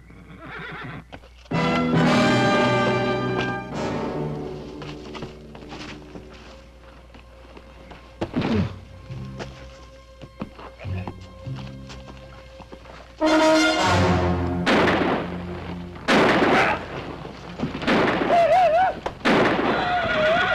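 Horses neigh loudly several times in bursts, with clip-clop of hooves between calls at close range; no talking.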